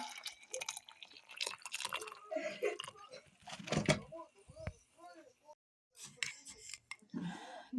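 Water is poured over ginger root and lemon in a home kitchen, brief splashing and trickling amid clinks and handling noises, with someone talking intermittently.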